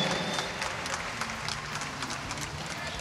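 Crowd applause in a sports hall at a fight event in Antalya: dense, continuous clapping at a steady, moderate level that fills the space, with some background murmur and no clear speech.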